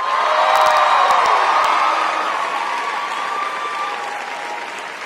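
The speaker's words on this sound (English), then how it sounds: "About a round of applause for this amazing roster of faculty at CCU." A large crowd gives faculty a sustained round of applause at a university commencement ceremony, loud and steady at first, then slowly easing, with a few scattered whoops and cheers.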